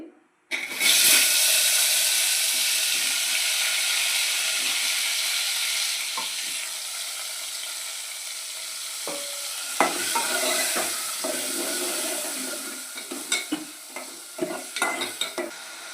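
Tomatoes tipped into a hot pan for chutney set off a loud, sustained sizzle that slowly settles, followed by scattered scraping and stirring clatters of the utensil against the pan.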